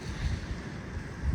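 Gusty wind buffets a microphone outdoors at an abandoned Chinese temple, a low rumbling rush with surging bursts, loud and close, no voices.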